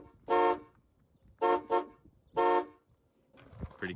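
The horn of a 1996 Cadillac Fleetwood limousine sounds four short, loud honks: a single blast, a quick double, then one more. Quiet pauses separate them, and faint background noise follows.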